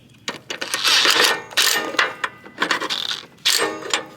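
Ratchet cranking down the pulley bolt on a Snapper RT8 tiller during a drive belt swap, a close, loud run of rapid clicking bursts with short pauses between strokes.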